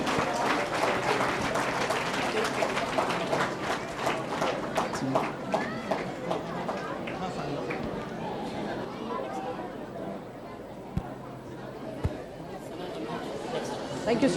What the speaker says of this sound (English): Please give a round of big applause.